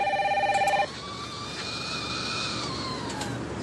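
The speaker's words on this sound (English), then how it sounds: "One day, telephone rang." Telephone ringing, one short electronic ring burst at the start that cuts off abruptly, followed by low background hum.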